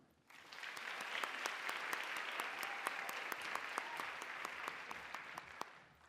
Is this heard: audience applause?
yes